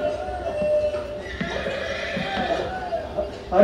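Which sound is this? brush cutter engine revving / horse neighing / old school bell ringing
horse neighing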